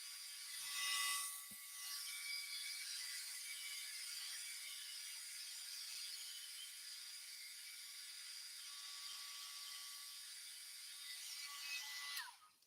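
A heat tool melts embossing powder on a card, a steady, faint high whine and hiss of blowing air that runs continuously and cuts off at the end.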